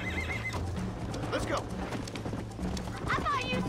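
A horse neighs and whinnies repeatedly over clip-clopping hooves in the Western game Red Dead Redemption, with talk running underneath throughout.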